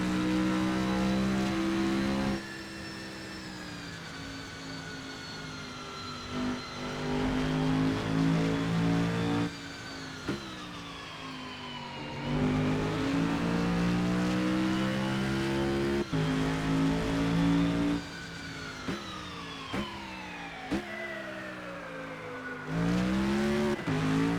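A Panoz Avezzano GT4 race car with a supercharged 6.2 liter GM engine laps Breakers Circuit, its loud engine climbing through the revs, dropping sharply at each shift and winding up again over a sustained run.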